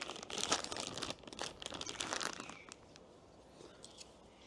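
A plastic packet of dried Turkish apricots, 400 grams, crinkles and crunches in close, busy bursts for a couple of seconds, then the handling fades to faint rustles.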